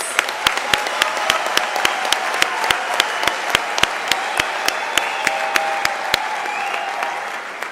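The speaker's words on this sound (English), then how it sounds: "A rousing round of applause," Loud, sustained audience applause at a University of South Africa autumn graduation ceremony, with steady crowd clapping and crisp individual claps standing out in a regular rhythm throughout.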